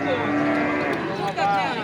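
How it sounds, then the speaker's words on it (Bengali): A cow moos loudly and close at a cattle market for Eid sacrifice animals in Sholakia, with long drawn-out lowing calls filling the moment and busy crowd noise beneath. "অনেক সুন্দর গরু"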